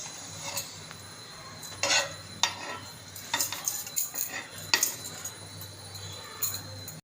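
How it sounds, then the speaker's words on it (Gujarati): A frankie wrap frying in oil in a pan gives a low sizzle beneath repeated sharp clinks and scrapes of a metal utensil against the pan, arriving in irregular bursts. "તળવા મૂકી દીધી છે. અંદર તેલ નાખશું"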